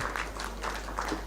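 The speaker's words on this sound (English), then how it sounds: "Now let's clap for ourselves." A conference audience at an African grain trade policy dialogue claps for itself in a brief, moderately loud burst of mixed handclaps.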